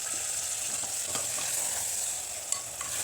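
Masala for egg biryani sizzles steadily in a pan, a continuous crackling hiss with a few faint stirring scrapes and no talking.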